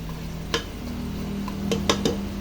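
Marinated spare ribs are stirred in a pan with a utensil, a low sizzle underneath and a few sharp scraping clicks against the pan, close and without talk.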